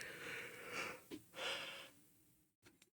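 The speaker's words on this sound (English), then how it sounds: "you see me yawning." A long, drawn-out breathy yawn, close and quiet, with a short wheezy exhale and a couple of small breaths at the end.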